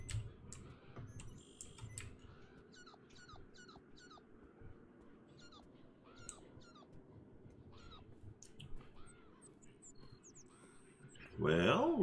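Birds in the video game Beyond Eyes chirp in short repeated calls over a quiet background, ending in a sudden loud burst of noise.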